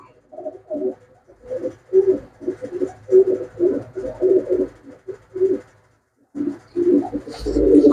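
Pigeons coo close by in a steady series of soft, rhythmic throaty calls, pausing briefly before more cooing resumes.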